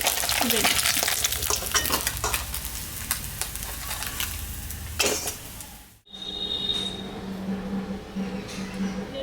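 Dry red chillies and panch phoron sizzle and crackle in hot oil as a tempering for a Bengali moya fish chorchori, with steady frying and stirring, then a brief cut before a quieter, softer sizzle continues.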